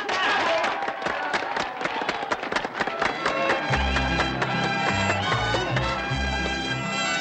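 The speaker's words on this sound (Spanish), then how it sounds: "¡Un aplauso!" An audience applauds a cabaret-style introduction in a Spanish-language film. Dense, steady clapping fills the whole stretch, and music with a heavy bass line joins underneath about halfway through.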